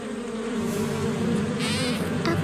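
Bees in a My Little Pony cartoon give off a continuous, close, droning buzz that holds steady throughout, with a brief higher whir near the end.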